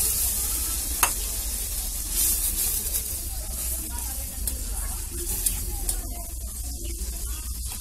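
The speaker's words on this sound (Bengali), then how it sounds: "ডিমটা আমি তেলের উপরে ভালো করে ভেজে নিচ্ছি" Rohu fish roe frying in oil in a pan, a steady crackling sizzle with scraping stirring strokes throughout, close and moderately loud, no talking.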